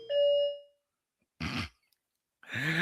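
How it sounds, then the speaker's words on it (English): A bright two-tone doorbell chime rings once, then after a short silence two more chime bursts follow, clear and close. "I would have just let the chimes play."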